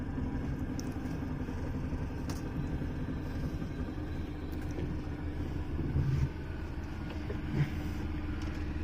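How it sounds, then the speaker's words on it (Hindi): A car engine idles and runs low and steady as the car slowly reverses during a driving lesson, a constant rumble that rises slightly near the end, with no voices over it. "गाड़ी अब देखो पीछे चलना शुरू हो गई है"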